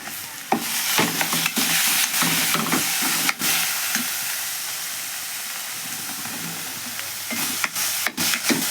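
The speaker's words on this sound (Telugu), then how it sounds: "ఇంకొన్ని ఉల్లిపాయ, టమాటా, పచ్చిమిర్చి అయితే వేగుతున్నాయి అనమాట" Onion, tomato and green chillies fry in a pan for a village-style curry: a constant loud sizzle and hiss, broken by sharp scraping knocks of stirring at irregular intervals.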